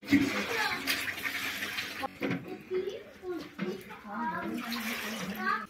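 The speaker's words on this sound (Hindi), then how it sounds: "पहले साग को झाड़ लेते हैं, उसके बाद साग को धोते हैं" Chickpea greens being washed by hand in a basin of water, a steady sloshing and splashing that runs throughout under nearby talk and a voice.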